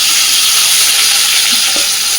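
A continuous loud sizzle of green banana peel paste with garlic and green chili frying in hot oil in a pan, a steady hiss with a faint bubbling pop near the end.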